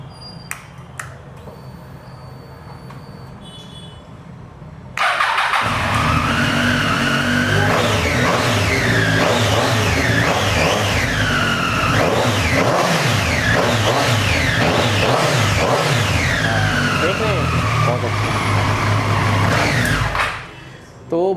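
A Triumph Speed Triple 765 RS motorcycle fires up after a quiet stretch, then holds a loud, close exhaust note with repeated throttle blips and revs rising and falling for about fifteen seconds before cutting off.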